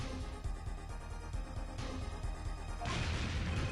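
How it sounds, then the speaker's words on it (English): A crashing explosion effect from the video game Apollo Justice: Ace Attorney, a dense rumbling burst that swells and roars louder toward the end, with no talk over it. "Wow, an explosion sound"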